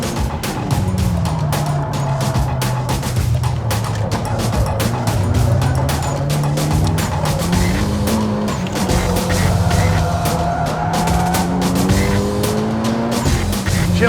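A race car at full throttle on a fast lap, the engine roaring loud and close from onboard, its pitch climbing and dropping through gear changes, with tyre noise underneath and no speech.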